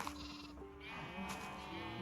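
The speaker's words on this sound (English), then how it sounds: "we can dye the sheep and shear said sheep" Sheep bleating in Minecraft, a quavering game bleat that sits over a steady low background with no talk.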